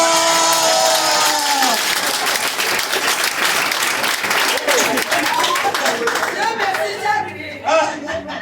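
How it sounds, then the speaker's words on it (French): Loud crowd applause with sustained clapping and cheering, gradually thinning toward the end as voices chatter. "Applaudissez pour Forever!"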